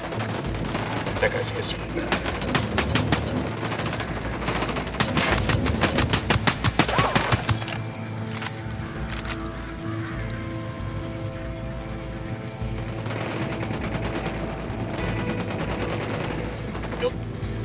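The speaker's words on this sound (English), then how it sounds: "I'm opening fire." Rapid automatic gunfire and bursts of rifle shots in the shooter game Ghost Recon Wildlands, heavy and close for several seconds, then thinning to scattered shots, with squad voices talking over it.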